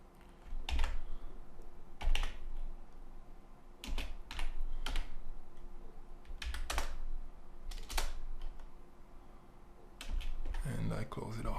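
Code being typed on a computer keyboard comes through as several short bursts of clicking keystrokes separated by pauses, fairly close and moderately loud, with a faint steady hum underneath.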